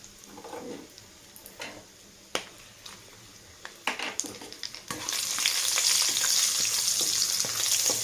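Green chillies and biryani spices fry in a pan, with scattered taps and scrapes of stirring at first, then a steady loud sizzle that rises and holds to the end.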